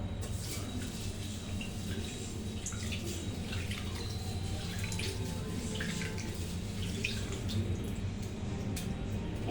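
Clean water runs and drips continuously, a steady close splashing stream with scattered drips over a low background hum, no talking.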